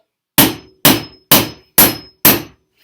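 Five sharp, evenly spaced hammer blows drive a 10-penny nail into wood on a workbench, each strike a loud crack with a short ringing decay, close and alone.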